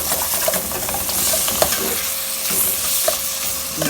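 Chopped tomatoes sautéing for a rajma curry, sizzling steadily in a pan while a spoon scrapes and stirs them with soft repeated clinks.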